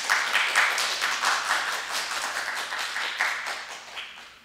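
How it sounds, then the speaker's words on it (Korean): Lecture hall audience welcoming a Sejong University professor with a short burst of applause, close and fairly sparse clapping with distinct individual claps that swell and then fade away within a few seconds. "여러분 박수를 부탁드립니다."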